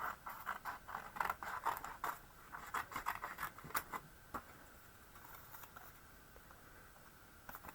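Scissors fussy cutting small paper pieces for a stamped Christmas shadow box, quiet close snips and scratchy rustles in irregular clusters, thinning out toward the end.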